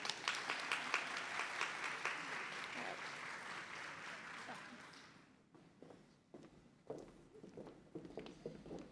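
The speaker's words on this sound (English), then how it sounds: "One more applaud for our wonderful TRIO ambassadors." Banquet audience applauds TRIO ambassadors with loud, dense clapping for about five seconds, then it fades into scattered claps and murmuring voices.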